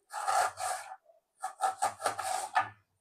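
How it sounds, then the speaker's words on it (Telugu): A knife cuts ridge gourd into small pieces on a cutting pad, making a run of close, dry rasping strokes in two quick bursts, a short pause, then several more rapid scrapes. "చిన్న చిన్న పీసెస్ కట్ చేసుకుంటే సరిపోతుంది."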